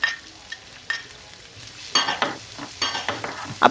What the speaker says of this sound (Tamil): அப்புறம் கட் பண்ணி வச்சுருக்க வெங்காயத்தையும் சேர்த்து அதையும் ஒரு 2 நிமிஷம் வதக்குவோம்